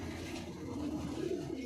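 Pigeons cooing at a loft where prized flying pigeons are kept, a low steady murmur of soft coos continuing throughout, fairly faint and unaccompanied by talk.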